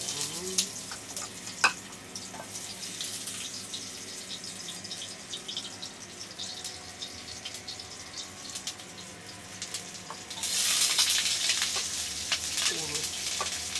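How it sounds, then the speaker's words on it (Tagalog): Duck wings sautéing in a pan with preserved red bean curd, a steady soft sizzle with occasional clinks and stirring scrapes, growing louder near the end. "magigisa na ako ngayon"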